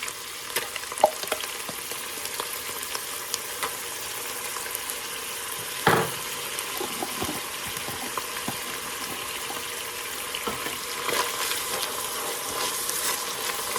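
Garlic fries in a pan with a steady, even sizzle that runs throughout, with a single brief clatter partway through.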